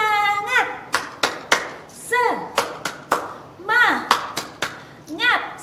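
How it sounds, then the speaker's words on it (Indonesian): Rhythmic clapping chant led for children at an online Sunday school service, sharp distinct hand claps in a patterned beat alternating with sung chant phrases, close and loud. "Kakak mau mengajak kita semua melakukan tepuk semangat dan juga tepuk fokus."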